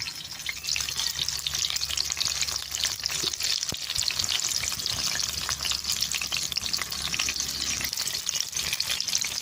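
Onions frying in hot oil, a dense continuous crackling sizzle, loud and close, with a brief scrape of a utensil near the middle.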